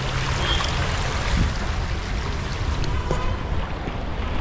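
A small stream flows steadily beside a forest tribal village, giving a continuous broadband rush of running water that stays even in level throughout.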